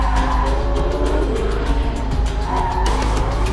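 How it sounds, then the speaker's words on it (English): A Porsche sports car sliding its rear end out, tyres squealing loudly and continuously over a heavy engine roar, close and intense for the full few seconds with no talk. "The back end breaks away like a rear-wheel drive car."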